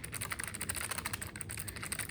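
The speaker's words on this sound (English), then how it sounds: "It's not that loud. You can hear it click." Fast, continuous typing on a clicky mechanical keyboard, crisp sharp key clicks in a steady close-up patter with no talking.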